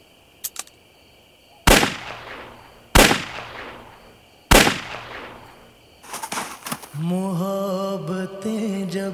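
Three sharp gunshots ring out one after another at steady intervals, loud and close in a dramatic scene, each with a decaying tail, followed by swelling background music.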